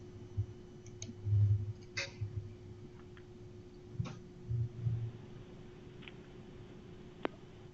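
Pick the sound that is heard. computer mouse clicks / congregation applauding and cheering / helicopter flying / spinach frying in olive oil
computer mouse clicks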